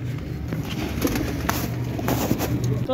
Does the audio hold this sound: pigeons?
yes